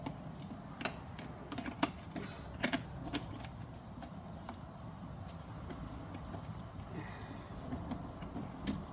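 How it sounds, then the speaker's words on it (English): A wrench works bolts on a Land Rover Defender fender, making quiet scattered clicks and ratcheting ticks over a low steady background hum, with no talking. "So you have to use a wrench."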